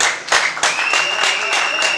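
A crowd claps at a political support rally in a French-speaking setting, a loud, dense burst of hands with rhythmic pulses and a whistle-like tone running through it.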